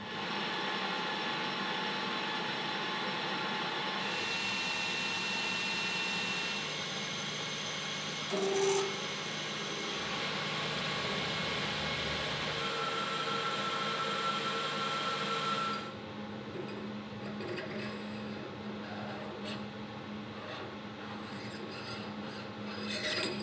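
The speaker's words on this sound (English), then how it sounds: "Back in the lathe, I can now face this end and drill the hole for the shaft." A metal lathe facing the end of a part and then drilling a hole for a shaft, giving a steady machining whir with scraping, rasping cutting noise that shifts in tone partway through and ends in quieter running.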